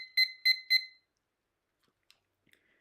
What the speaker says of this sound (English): Let's get this timer, see if it's working.